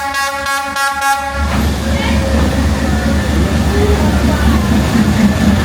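A train rumbles through a Hanoi street with a loud, continuous low roar after a few short horn toots at the start, the passing noise filling the scene up close.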